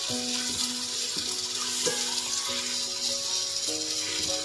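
Garlic and ginger fry in a pan for chana dal, a soft, even sizzle and bubbling close by, with gentle melodic tones playing faintly underneath.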